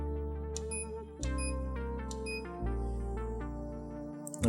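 An Epson C6000 label printer feeds and prints a label, a close sequence of stepped whirring and clicking mechanical movements with short pauses, heard without talking.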